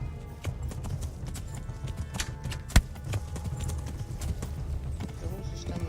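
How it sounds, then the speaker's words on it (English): Horse hooves clip-clop in the medieval video game Kingdom Come: Deliverance, with steady irregular hoofbeats, one sharp louder knock, and a low rumble underneath. "The horse is coming up."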